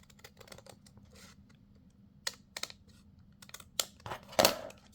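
Scissors snip a paper card overhang on a handmade 1950s diner paper craft: a few sharp, crisp clicks close by, scattered over a few seconds against a quiet room.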